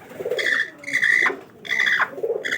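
Pigeons coo close by, several soft throaty rolling calls repeating in a loose rhythm, clear and alone.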